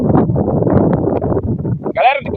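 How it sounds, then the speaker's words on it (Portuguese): Strong wind buffets an outdoor microphone beside water on a fishing trip after heavy rain, a loud steady roar and rumble throughout, with a brief higher rattling gust near the end. "com certeza deve estar aí no vídeo o vento forte"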